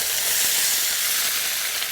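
Curd dropped into hot ghee with browned cumin seeds gives a steady, close, broadband sizzle that hisses evenly throughout with no talking.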